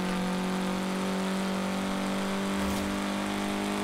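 A car in the video game Forza Horizon 4 braking, turning and accelerating, its engine droning loud and steady with a rising rev toward the end, close and continuous, no talking.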